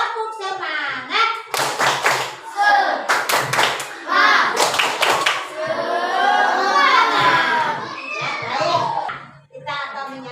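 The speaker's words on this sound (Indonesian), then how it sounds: "Coba tepuk semangat dulu anak-anak. Tepuk semangat." Classroom of children doing the rhythmic "tepuk semangat" cheer, patterned bursts of clapping mixed with loud chanting and shouting voices, close and energetic.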